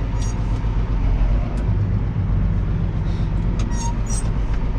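A farm tractor pulls out of a yard onto a busy road, its engine a steady loud low rumble throughout, with passing traffic noise mixed in and no talk.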